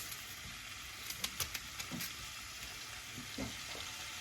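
Bone marrow fat sizzles and crackles steadily in a pot, with a few scattered pops and light clinks over the constant hiss.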